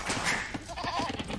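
Sheep bleat in a video game, a few short wavering calls heard over busy game ambience and background noise, moderately loud with no speech.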